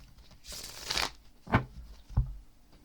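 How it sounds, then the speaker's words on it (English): A deck of cards is shuffled close up: a long riffling burst followed by two short, sharp snaps of the cards, with no talking. "I'm shuffling up the cards here real quick."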